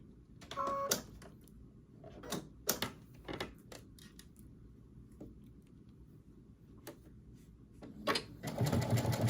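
A sewing machine zigzag-stitches a hem in stretch fabric, running in short bursts of rapid clatter separated by pauses, close and fairly loud in a quiet room.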